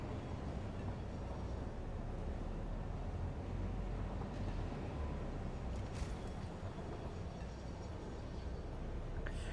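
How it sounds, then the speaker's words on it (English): A sulfuric acid freight train rolls along in the factory-building game Satisfactory, a steady broadband rumble with airy wind-like hiss holding evenly throughout, loud and continuous with no voices. "there's a sulfuric acid train, which is headed back to the nuclear power plant"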